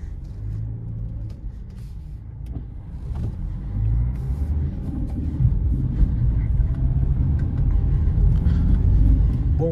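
A 2023 Fiat Mobi Like 1.0 car climbs a steep cobblestone hill in the rain, its engine a steady low rumble that builds gradually louder, with road and tyre noise throughout and no voices.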